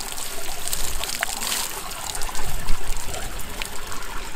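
Water pours steadily into a drum as it nears full, a continuous trickling and splashing that swells slightly toward the end, with no talk over it.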